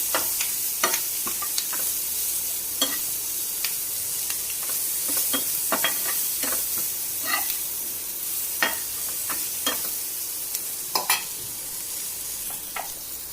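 Green chillies frying in a pan are stirred with repeated sharp scrapes and taps of a utensil over a constant close sizzle and hiss lasting throughout.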